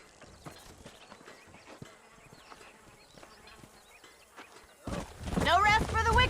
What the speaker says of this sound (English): Let's see if we can track down that other herd of horses.